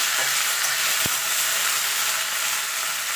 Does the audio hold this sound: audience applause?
no